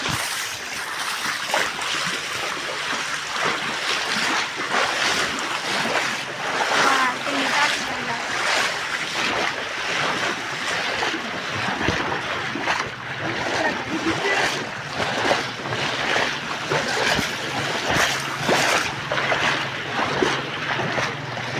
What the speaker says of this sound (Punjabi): ਪਾਣੀ ਦਾ ਬਹਾ ਬਾਹਲਾ ਹੀ ਤੇਜ਼ ਆ ਤੇ ਪਾਣੀ ਫੁੱਲ ਧੱਕੇ ਮਾਰਦਾ